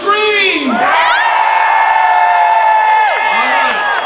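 A loud crowd at an outdoor health care reform rally in Seattle screams, whoops and cheers continuously, with high shrieking voices rising and falling over the sustained roar.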